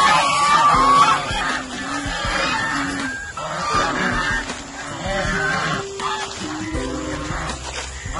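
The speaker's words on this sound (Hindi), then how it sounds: "बत्तखें" Ducks on a village farm in Pakistan feed on silage with loud, overlapping honking quacks. The calls are close and constant throughout.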